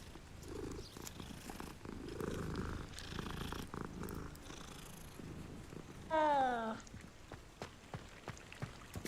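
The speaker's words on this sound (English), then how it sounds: "Another cat?" A cat purrs steadily in Hogwarts Legacy, a low rhythmic rumble under soft ambient game sound and some faint background talk, with a brief rising chirpy call near the end.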